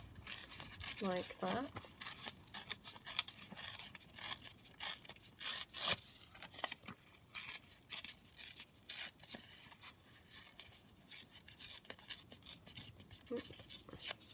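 Paper from a 12x12 craft paper stash being torn and handled: continuous close rasping, rubbing and tearing noises across the whole stretch, with brief talk near the start and end.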